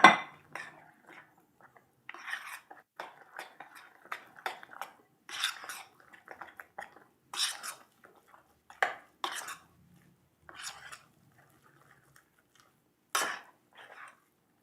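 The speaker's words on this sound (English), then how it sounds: "And then stir it into the flour here." A utensil stirs oat milk soured with vinegar into flour in a kitchen bowl, giving intermittent light clinks, taps and scrapes against the dish, close and fairly quiet, with pauses between strokes.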